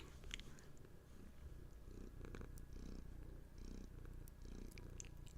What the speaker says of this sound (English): Hear them purrs?